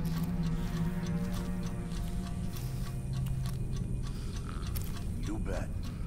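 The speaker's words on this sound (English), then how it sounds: "There's an alarm clock." Alarm clock in Dishonored 2 ticking in a steady, even rhythm, faint and close, beneath low ambient hum and a brief mechanical sound near the end.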